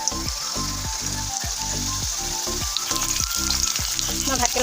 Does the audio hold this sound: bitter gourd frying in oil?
yes